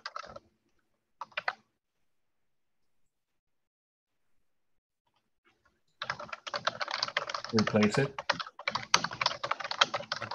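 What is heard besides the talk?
typing on a mechanical computer keyboard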